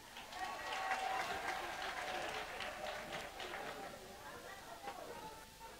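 An audience applauds at an investiture ceremony for the messengers of President Laurent Gbagbo, a steady wash of clapping that holds for several seconds and slowly thins, with a voice speaking over it.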